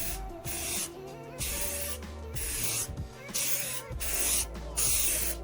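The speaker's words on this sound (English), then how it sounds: "With your 1K, make sure to do nice, even, light coats." Aerosol can spraying light, even coats of 1K clear coat onto a restored headlight, close and steady hissing bursts repeated several times with brief pauses between passes.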